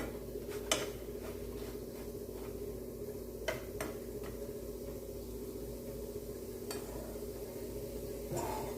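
Spicy vegetarian fish fry (saiva meen varuval) frying in a pan: a faint, steady sizzle with occasional light clicks and taps of a utensil.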